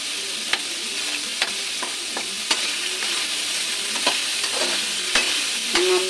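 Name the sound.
garlic sautéing in a pan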